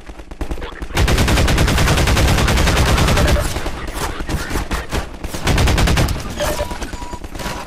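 Loud, rapid gunfire rattles from Half-Life 2 combat, with near-continuous automatic bursts and short gaps between volleys.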